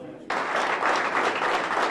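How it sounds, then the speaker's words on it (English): Applause bursts in suddenly and holds steady as a high school crowd of Tigers gives a rousing ovation for their team manager, dense clapping close and loud throughout. "the Tigers giving a rousing ovation for their team manager"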